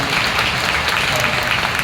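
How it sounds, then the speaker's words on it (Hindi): Audience applause welcoming a speaker at a panel discussion during a manifestation retreat in Delhi, a dense, loud burst of many people clapping with no voice over it. "की एक बार फिर से तालियां स्वागत करिए।"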